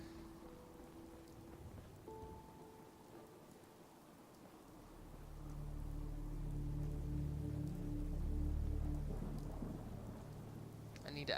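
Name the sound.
rain in the video game Fallout 4 VR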